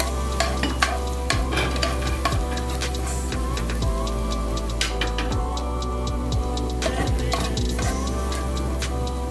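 Garlic frying in a pan for a tilapia dish, a steady close sizzle running throughout with scattered clinks and scrapes of stirring over a low constant hum.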